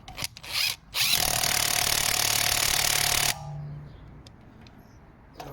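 A Parkside impact wrench rated at 400 Nm tightens bolts in loud, steady bursts: two brief hits, then one long rattling run of about two and a half seconds that cuts off abruptly, leaving a low fading hum.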